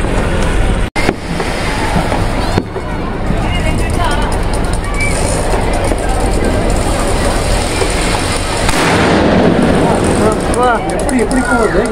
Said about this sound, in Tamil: ஸ்கை ஷாட்லாம் வச்சா மேலே வந்து நம்ம வீட்டுக்கு முன்னாடி இந்த இடத்துல வெடிக்குது.